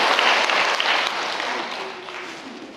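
An audience claps in a church lecture hall, a dense burst of applause that starts loud and slowly fades over a few seconds.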